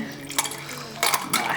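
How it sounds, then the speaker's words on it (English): Vodka and lemon drink poured into chilled glasses, heard as a soft liquid splash with a few light glass clinks in short bursts, close and fairly quiet. "I'm just going to pour it in"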